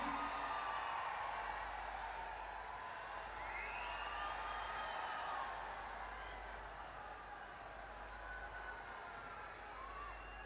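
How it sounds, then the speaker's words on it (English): A stadium crowd cheers for dignitaries at the men's hockey World League final between Germany and England in Bhubaneswar, India. The wide, distant roar is sustained throughout and eases slightly toward the end. "let's have a huge cheer for the dignitaries"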